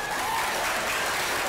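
Audience applause at a stage show in Opatów, a dense steady burst of clapping from a crowd that carries loudly through the whole moment.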